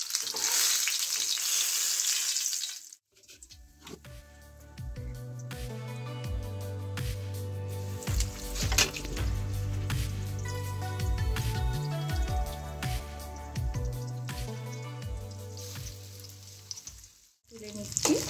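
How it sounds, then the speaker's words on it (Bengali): Bhola fish fries in hot oil with a bright sizzling hiss, clearest at the start, then continuing beneath louder background music. "আমার মাছ ভাজাটা হয়ে গেছে"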